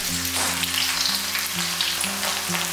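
Scallions hit hot oil in a wok and fry with a loud, steady sizzle that runs the whole time, over a faint low hum in the background.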